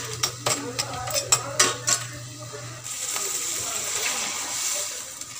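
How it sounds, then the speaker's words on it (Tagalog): Food is sautéed in a pan in a home kitchen before coconut milk goes in: a few sharp metal clinks of a utensil against the pan, then a steady close sizzling hiss. "Ginisa ko muna to bago ko lagyan ng ano, gata."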